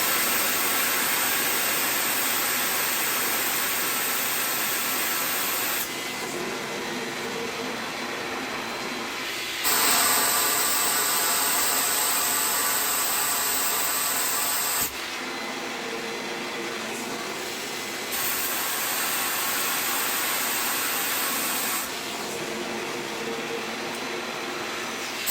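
A loud, steady rush of compressed air blowing through a Propex heater mixes with the drone of a running vacuum, the hiss pulsing in and out in bursts every few seconds.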